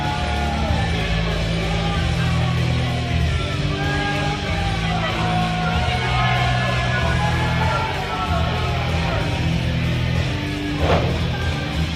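A crowd at an independent pro wrestling show in Stratford cheers and yells steadily throughout, a full roar of voices in an indoor venue with occasional louder shouts and whoops.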